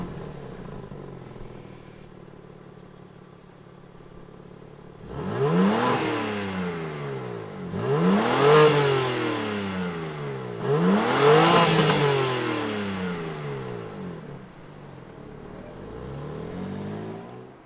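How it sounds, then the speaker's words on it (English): A 2022 BMW M3 Competition straight-six starting up and revving hard, three sharp rising blips in quick succession over a low idle, loud and close. "why don't we fire up this M car and hear what kind of noise it makes."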